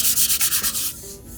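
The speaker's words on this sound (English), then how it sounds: "So I'm just going to use some 320 with my sanding block." A 320 grit sanding block rubs back and forth over a wooden bass body in quick, even strokes, close and crisp, tapering off near the end.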